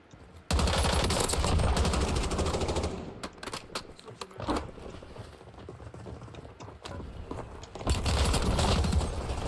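Loud, sustained automatic gunfire in Battlefield 6 rattles nonstop in dense bursts, breaks into scattered single shots and softer impacts, then erupts again into a heavy continuous volley near the end.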